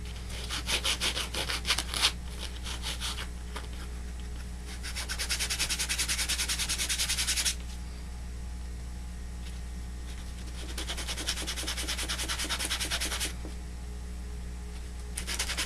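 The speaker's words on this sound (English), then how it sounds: "you may want to take the sandpaper and round over the edges" Sandpaper rubs the edges of a wooden model rocket fin in rapid back-and-forth strokes, close and steady, stopping in two long quiet gaps before the scratching resumes, under a constant low hum.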